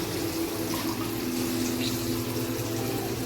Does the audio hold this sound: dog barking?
no